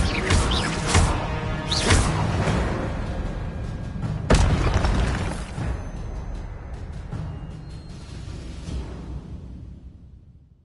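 Fire spells cast again and again in Hogwarts Legacy, giving loud whooshing bursts and heavy booming impacts at irregular intervals, with the crackling texture thinning out toward the end.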